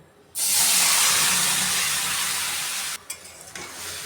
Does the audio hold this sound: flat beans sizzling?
yes